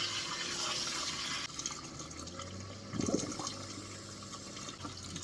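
Warm water pours steadily into a pot of cabbage greens, a broad watery rush with a brief louder splash midway, continuing at an even level.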